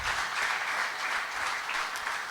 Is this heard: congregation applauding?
yes